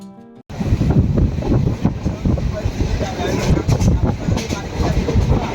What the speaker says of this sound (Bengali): সঠিক সময়ে ট্রেন ছেড়েও দিল কন্যাকুমারী স্টেশন থেকে